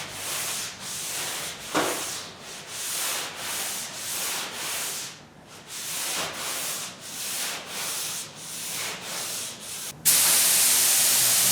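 Sandpaper of 240 grit rubbed by hand over car body filler on a Cutlass sunroof patch, rhythmic back-and-forth scratchy strokes, close and even, ending in a sudden hiss of spray.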